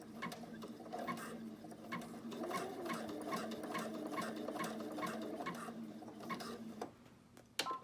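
A sewing machine stitches a face mask seam with a steady, quiet whirr and fine rapid ticking that runs for about seven seconds, reversing over the same distance, then stops with a soft click.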